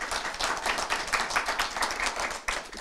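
An audience at a gathering claps in sustained applause, a dense, even wash of many hands, moderately loud throughout without a clear rise or fall.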